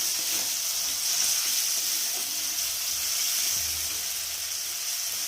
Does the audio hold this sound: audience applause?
no